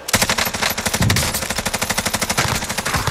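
Rapid automatic gunfire in a video game match at Boneyard, dense sustained bursts of loud shots firing in quick rhythm throughout, with no talking over it.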